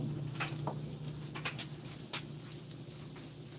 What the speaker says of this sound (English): that is frozen rain.